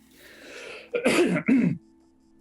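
Two quick, harsh coughs close to the mic, one right after the other, with near silence around them.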